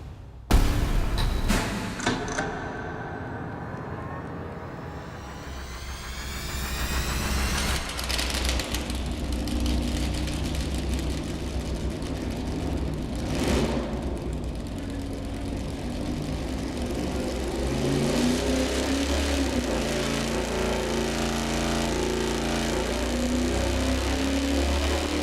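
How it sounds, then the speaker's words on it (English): A stout iron-head 440 V8 on a dyno with a 106-degree lobe separation camshaft roars loudly and steadily after starting, its heavy droning exhaust building and sustaining throughout. "we're gonna fire it up initially with the camshaft with 106 lobe separation angle"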